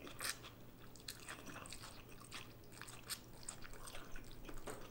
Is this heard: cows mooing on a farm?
no